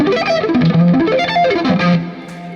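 Distorted electric guitar plays a fast sweep-picked arpeggio lick, notes rising and falling in quick rippling runs, loud and alone with effects coloring the tone, ending in a brief ringing tail.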